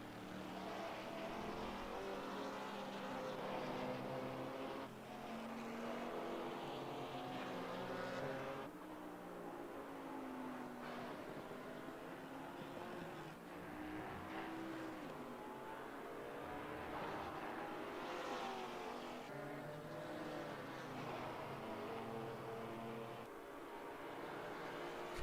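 GT4 race cars battle on track near the finish of a race, their engines droning and shifting pitch continuously at moderate distance, with no one speaking.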